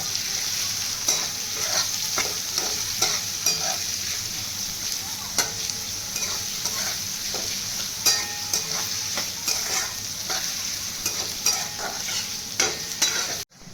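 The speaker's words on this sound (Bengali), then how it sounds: "পেঁয়াজ কুচিগুলো ভালো করে ভাজবো" Chopped onions frying and being stirred in a pan after garlic, a close, continuous sizzle punctuated by regular scraping strokes of the spatula, alone without talk.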